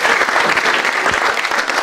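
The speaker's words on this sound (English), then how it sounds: "एक बार चलिए ताली बजाएंगे यार" Steady, dense applause from a studio audience at a dating show taping, even in loudness throughout, with no voices rising above the clapping.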